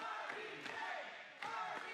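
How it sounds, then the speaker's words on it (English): An indoor independent professional wrestling crowd roars and cheers in bursts, with a couple of sharp swells of shouting rising over a constant murmur. "listen to this crowd getting behind RBJ"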